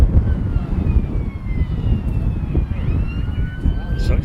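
An ambulance siren wails faintly in the distance on a breezy seaside day at Blackpool, its rising and falling tone running under gusty wind noise and occasional talk.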